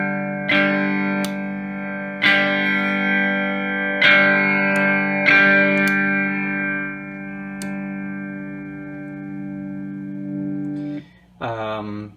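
An electric guitar runs through an overdrive pedal set as a clean boost, with a few slightly gritty chords struck at intervals and left to ring and decay, ending in a quick flurry of notes.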